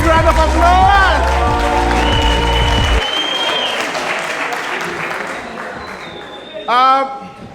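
A theater audience breaks into a big round of applause and some cheering, a dense clapping roar that starts under loud sustained music, then carries on alone after the music stops, with a brief swell near the end.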